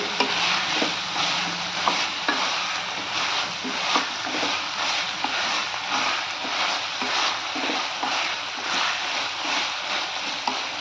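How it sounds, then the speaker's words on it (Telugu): Vegetables cooking in oil for veg masala rice, stirred repeatedly in the pan with a steady soft sizzle and rhythmic scraping strokes throughout. "కొంచెం ఆయిల్లో మంచిగా మగ్గనియ్యాలండి. బాగా తిప్పుకోవాలి."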